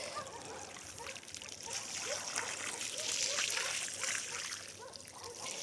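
A steady stream of water splashing and trickling continuously for several seconds, fairly close, with a broad hissing wash and no talking.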